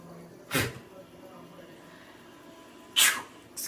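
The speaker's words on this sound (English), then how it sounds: "I just sneezed." A person sneezes twice, nearby and moderately loud, the two sharp bursts separated by a few seconds of quiet background.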